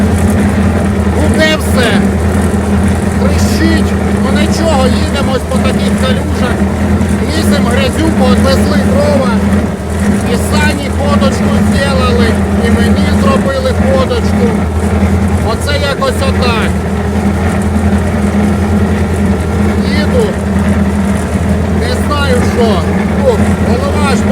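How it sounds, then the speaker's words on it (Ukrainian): A loud, steady T-40 tractor engine drone with a rhythmic low rumble and whistle runs throughout, close and continuous, while someone talks over it. "свистить цей трактор"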